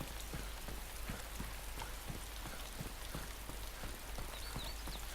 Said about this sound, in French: il pourrait arrêter de pleuvoir s'il vous plaît